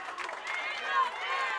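A crowd cheers and claps at a Wisconsin high school team bowling championship after a spare, a steady roar of many voices filling the hall, loud and close throughout.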